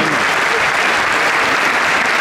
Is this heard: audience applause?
yes